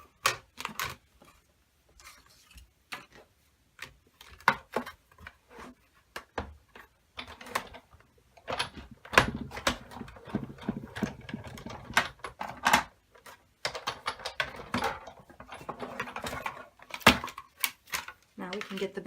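A Big Shot die-cutting machine cranks a card through a brick embossing folder. It gives close, irregular bursts of ratcheting clicks and rolling clatter, starting and stopping over about twenty seconds.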